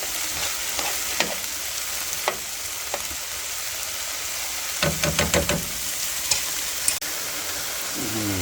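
Garlic frying in a pot for chicken and sausage gumbo, a constant sizzling hiss with scattered spoon knocks and a quick burst of scraping strokes midway, no voices present.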